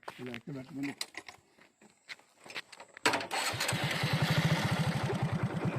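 A motorcycle engine starts up after some speech, then runs close and loud with a steady rapid putter through the rest, while a voice talks before and over it.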